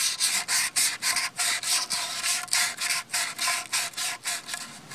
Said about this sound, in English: you can use sandpaper and wrap it around the pipe to take off smaller burrs